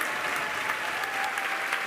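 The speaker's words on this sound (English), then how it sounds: "Yeah, the crowd is definitely hyped about this." A crowd at a SpaceX Starship test flight applauds and cheers as a Starlink V3 satellite deploys, a steady, dense wash of clapping heard from a distance.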